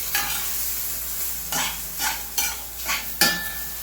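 Thyme or poultry seasoning is stirred into a crustless turkey pot pie filling, with a few separate scraping strokes of a spoon through the thick mixture over a faint sizzle.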